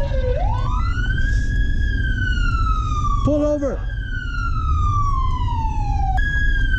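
A video game police car siren wails in long rising and falling sweeps during a vehicle pursuit, loud and close, with a brief yelp burst midway and a voice speaking over it.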